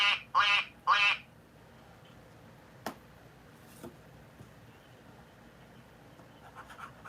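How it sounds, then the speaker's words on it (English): A toy duck gives three quick squeaky quacks at the start, followed by quiet room noise with a few faint taps and scratches. "make some duck sounds"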